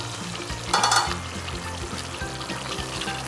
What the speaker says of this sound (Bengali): তারপরও আমি ভালো করে একটু নেড়ে চেড়ে উল্টিয়ে নিচ্ছি